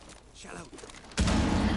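Gunfire in an esports video game match between Team Misalignment and Genesis Gaming, faint shots under a commentator's voice before a loud, dense burst of firing erupts and continues.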